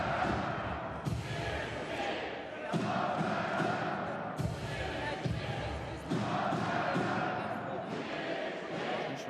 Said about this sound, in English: Some noise, great to hear crowds back in and around.